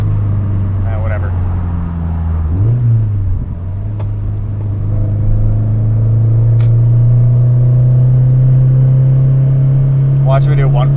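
A car engine pulls hard under a flat-foot run with a recently reset ECU, a loud close drone rising steadily in pitch with a brief dip mid-run, as a voice talks over it.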